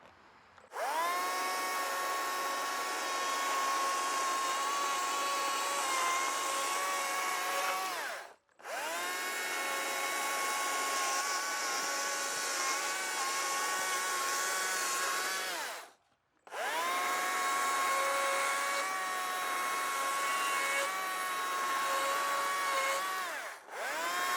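A chainsaw carves wood for a mushroom sculpture, holding a loud, steady high-revving whine in three long passes broken by two brief drops in power.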